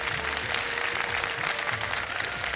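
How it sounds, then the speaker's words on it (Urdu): Audience clapping for a child on a televised Ramadan iftar show in a TV studio; steady, dense applause fills the whole moment without speech. "اس کے لیے تالی ہونی چاہیے اس بچے کو."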